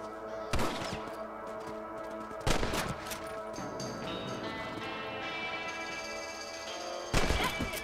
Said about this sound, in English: Let's see that rifle.